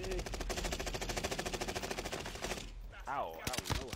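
Rapid automatic gunfire from an Apex Legends firefight, a dense, loud stream of shots for over two seconds, then a brief lull and a few scattered louder bursts with a voice underneath.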